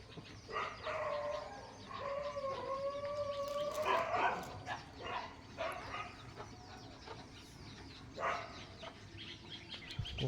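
A dog outdoors gives long, wavering howls mixed with short barks, moderately near, with birds and a rooster faintly in the background.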